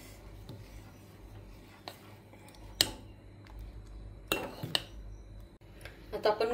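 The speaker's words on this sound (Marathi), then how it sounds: "व्यवस्थित हलवूया।" A spoon scrapes and clinks against a pot while stirring kheer, a vermicelli pudding with saffron-cardamom liquid, in scattered irregular strokes with a few sharper taps near the end.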